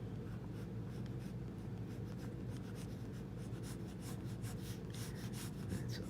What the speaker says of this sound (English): I'm not thrilled with her hands, so I just erase the hands.